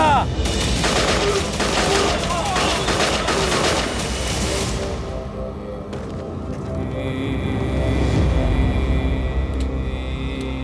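Soldiers fire live rounds in a loud, close barrage of rapid crackling shots that sweeps through the first half, then thins into a lower rumble with scattered distant reports.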